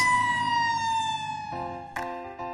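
An emergency siren wails with a steady tone that slowly slides downward, close and fairly loud, then shifts pitch near the end.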